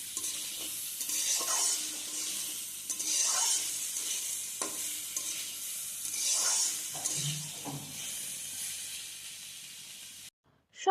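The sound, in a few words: frying vegetables with ginger and garlic paste in pan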